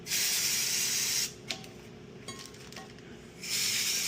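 Two bursts of brake cleaner aerosol spray hiss loudly, with faint metallic clinks and small handling noises in the quiet gap between them, during a brake pad and rotor change on a 2023 Dodge Challenger SXT.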